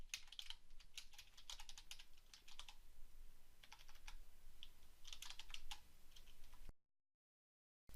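Soft, quick keystrokes on a computer keyboard type an email subject line in irregular bursts for several seconds, then stop abruptly into silence.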